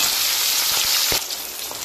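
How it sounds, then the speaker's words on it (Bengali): Fungur fish frying in oil in a pan, a steady close sizzle with a few soft stirring clicks, slightly quieter toward the end. "ভাজার সময় আঁচটা একটু কমিয়ে দেবেন।"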